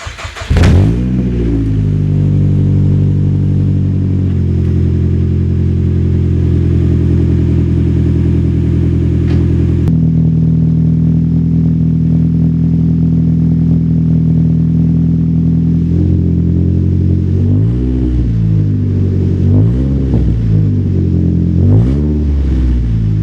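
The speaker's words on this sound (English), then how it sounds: "Alright guys, now it's time for the first startup. So we've got the 2J Racing 3-inch resonator downpipe going to the eBay God Snow catback exhaust." A Nissan Sentra fitted with a 3-inch resonator downpipe and aftermarket catback exhaust cranks and fires up, then settles into a loud, steady idle with several short throttle blips toward the end, heard up close with no talking.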